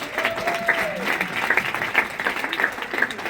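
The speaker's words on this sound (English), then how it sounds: "Give him a round of applause." Applause from an audience at an annual UK and Ireland event, a lively crowd clapping throughout with a voice briefly heard over the start, sustained and fairly close.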